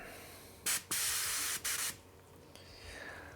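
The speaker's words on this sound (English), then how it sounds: "I enjoy it once I'm actually busy airbrushing" An airbrush sprays paint in a few short, loud hissing bursts separated by brief pauses, then settles into a fainter steady hiss close to the microphone.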